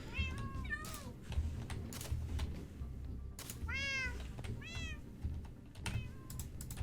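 A cat in Minecraft 1.20.2 survival mode meows several times, its short rising and falling calls spread across the stretch over a steady low game background with soft clicking.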